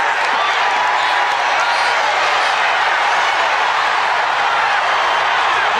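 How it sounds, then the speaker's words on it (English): Wrestling arena crowd at NWA Starrcade 1988, a steady loud roar of many voices with scattered cheering and whoops, continuous throughout without letup. "Listen to the crowd."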